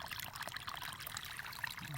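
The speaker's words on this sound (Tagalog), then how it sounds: "Papatubig tayo ng sibuyas." Water from a mountain source trickles and splashes steadily while onion plants are watered in a field in Villamarina, a soft continuous hiss with no voices.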